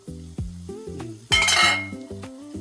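Chicken and onions sizzle in a pan of butter and oil, a steady fry with a few clinks of a utensil against the pan and a louder burst of sizzling midway, close and without speech.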